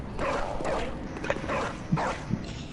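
A dog in the PS4 game Bloodborne gives several rough, rhythmic barks and yelps over constant game ambience, with gaps of roughly half a second between them.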